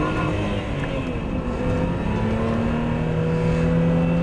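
A powerful supercharged car engine of over 300 brake horsepower drones steadily as it accelerates, a continuous loud throaty roar with rising harmonic tones and no talking.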